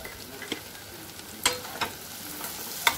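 A spoon stirs potato and cluster bean sabzi in a pan, giving a handful of sharp scrapes and clicks over a soft, low fry, close and with no talk.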